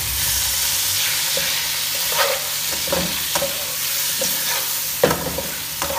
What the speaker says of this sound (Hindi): और हमने इसलिए पहले ऑयल में इसको कर लेंगे थोड़ा सा फ्राई करते हुए